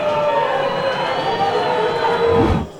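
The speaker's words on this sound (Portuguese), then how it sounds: "O primeiro tempo acabou assim, e com vaias no Martins Pereira" Loud stadium crowd noise from spectators booing at Estádio Martins Pereira as the first half of a São José versus Juventus football match ends, a dense continuous roar that fades near the end.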